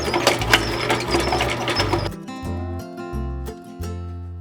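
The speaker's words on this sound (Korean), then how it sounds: "반죽을 하는 과정에서 제빵기가 정말 많이 흔들리고 소음이 좀 있어요." Home bread machine kneading dough, loud motorized whirring and rattling from the shaking machine for about two seconds, then dropping to a rhythmic, pulsing mechanical hum with intermittent thumps, close and alone with no speech.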